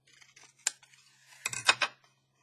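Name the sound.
scissors cutting open a paper envelope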